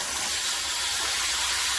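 A HammerHead solid metal 3-spray handheld shower head sends out water in a steady, loud hissing spray. The rush is continuous and close for the whole stretch, with no voices.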